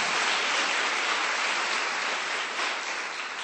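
Sustained, dense applause from a church congregation during a Sunday service, an even broadband wash of clapping that holds steady for several seconds and eases slightly toward the end.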